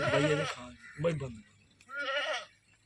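A goat bleats three times in close succession, each call wavering and loud, with short pauses between them.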